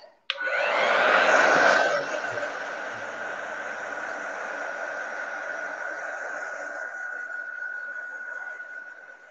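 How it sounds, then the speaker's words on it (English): A hair dryer blows steadily on a fall craft project, a loud continuous whirring rush with a steady tone that starts abruptly and runs the whole time, strongest in the first couple of seconds. "I'm gonna dry this off."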